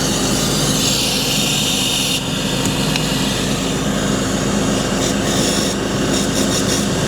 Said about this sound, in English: now that the brake is released, it should be letting air out of number 2